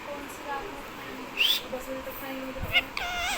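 A pet parrot gives a couple of short, rising whistles at close range amid quiet room noise, while a man coaxes it in Hindi between the whistles.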